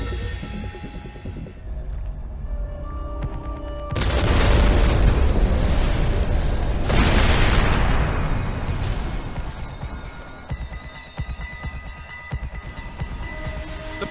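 A planted bomb goes off in the Far Cry 3 video game, a loud sudden explosive boom with a heavy rumbling blast that swells, sustains for several seconds, then settles into a lingering low roar and debris noise.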